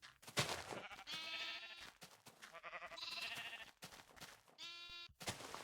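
Several Minecraft sheep bleat in turn, loud and close, with wavering drawn-out cries separated by short pauses.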